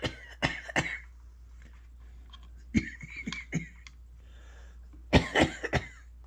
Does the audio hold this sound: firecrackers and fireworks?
no